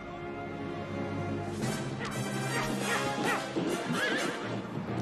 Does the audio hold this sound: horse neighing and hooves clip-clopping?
yes